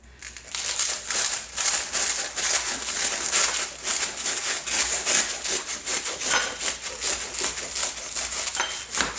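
A serrated knife saws through the tough top of an artichoke with rapid, rhythmic rasping strokes, close and crisp, each back-and-forth pass scraping audibly through the fibrous leaves.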